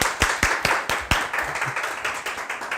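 Members of a Korean church congregation clap at a Sunday worship service, opening with a few sharp, evenly spaced claps before settling into softer, scattered applause in a reverberant hall.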